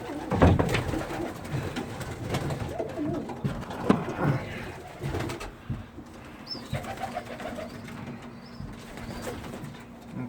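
Pigeons, including blue and red bar birds, cooing steadily inside a new coop, with soft overlapping coos close by, occasional rustles and wing shuffles, and a constant low background hum.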